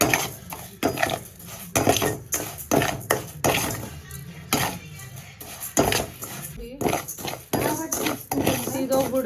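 Rice roasting in a pan for payasam gives repeated metallic scraping and clinking as a utensil stirs it, steady and close throughout, with voices speaking over it.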